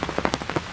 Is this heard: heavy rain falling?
yes